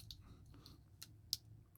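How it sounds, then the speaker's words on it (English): A Smiths Everest PRS-25 watch clasp with a faulty catch gives a few faint, sharp clicks as it is squeezed, irregularly spaced with one louder snap near the end and no talking. "I'm squeezing. You can kind of hear it clicking maybe."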